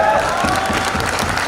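An audience at a Hindi comedy poetry recital claps in a dense, sustained burst of applause, steady and fairly loud throughout, with a faint voice over it at the start.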